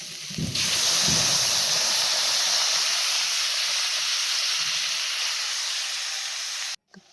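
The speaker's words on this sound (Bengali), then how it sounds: "এখন কিন্তু ঝোল দিয়ে দিতে হবে" Broth hits a hot pan of fried winter vegetables with a loud, sustained steamy hiss that holds for several seconds, then cuts off abruptly. A brief clatter follows.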